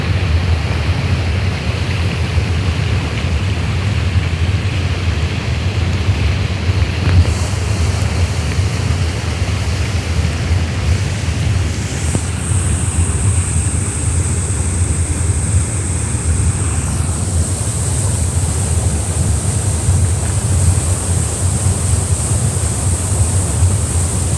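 Waterfall water rushing in a continuous loud wash, steady and close, with wind buffeting the microphone and no talking.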